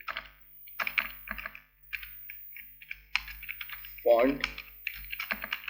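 Computer keyboard typing while entering code, a quick run of close, crisp key clicks in uneven bursts, with someone talking over it.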